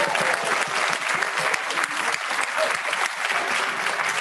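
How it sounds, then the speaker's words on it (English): An audience at a church service claps for children, musicians and singers in dense, sustained applause that fills the room steadily from start to finish. "could we just have a round of applause for the kids and for our musicians and singers?"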